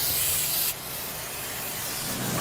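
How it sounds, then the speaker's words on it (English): An aerosol spray can hisses in a short close burst while marking cables aboard an aircraft carrier, followed by softer continuous hissing and rubbing. "As well as something like this, I'll go ahead and spray this."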